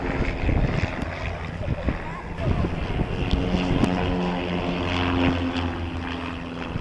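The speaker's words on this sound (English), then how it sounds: "The Pit Special, their mount, one of the classic aerobatic aircraft of all time." Two Pitts Special S1D aerobatic biplanes, a classic design by Curtis Pitts dating from 1944, fly at an airshow at the National Museum of Flight, giving a steady propeller-engine drone with wind over a busy, continuous background.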